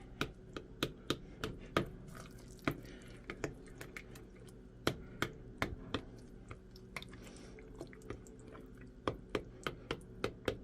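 Zucchini bread batter with eggs and salt is mixed by hand, giving repeated wet squishing and slapping sounds in an irregular rhythm, close and fairly quiet, with no talk.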